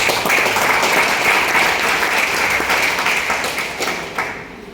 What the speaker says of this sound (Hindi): तो जोरदार तालियां संतोष सर के लिए